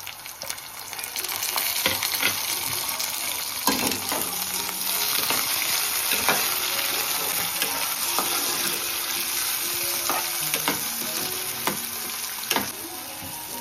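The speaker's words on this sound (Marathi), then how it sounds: "चला आता कांदा पण आपला शिजले आहे मस्त, आणि मिरची आणि लसूण. आता आपण टॅमॅटो टाकू." Onion, green chili and garlic frying in a pan as tomato goes in, a steady, dense sizzle throughout with occasional light clinks and stirring scrapes, no speech.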